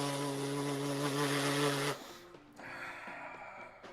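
A buzzing robot sound effect drones loudly with a steady harmonic hum for two seconds, then breaks into a lower, stuttering electronic buzz.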